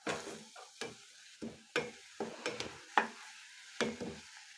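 Spices are stirred into a frying kebab mixture in a pan, heard as a series of distinct scraping, clinking strokes spaced about half a second apart over a faint sizzle, close and fairly quiet.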